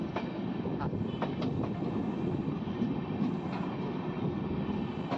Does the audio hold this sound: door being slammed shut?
no